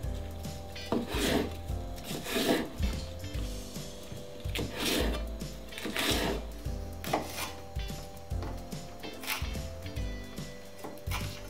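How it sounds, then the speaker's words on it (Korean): A knife cuts through a very thick Korean green onion (daepa) on a board in a steady series of firm, evenly spaced chops, close and clear with no talking. "대파는 길게 한 15cm 정도로 썰어서, 이 대파는 아주 굵어요. 그래서 4등분"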